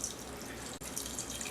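Water is poured steadily into washed rice for onigiri, a quiet continuous splashing rush with no voices.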